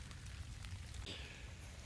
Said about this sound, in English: It is now actively raining on me.